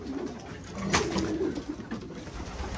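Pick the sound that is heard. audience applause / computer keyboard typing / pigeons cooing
pigeons cooing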